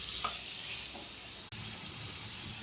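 Ridge gourd pieces with onions cooking in a pan for a moong dal curry, giving a steady broad sizzle with a faint stir near the start and a brief drop-out midway.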